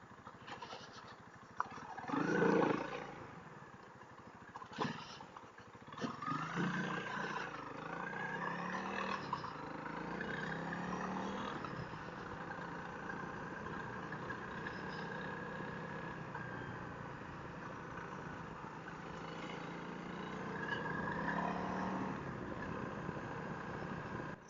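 Honda CRF300L dual-sport motorcycle ridden off-road, its engine a steady mid-level drone that rises and falls through gear changes, with a louder rev burst near the start and wind rush underneath.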